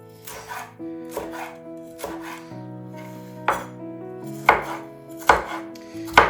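Knife chopping the last bit of a bell pepper on a board while cooking sloppy joes, a series of distinct chops at an irregular, unhurried pace over steady background music, with no talking.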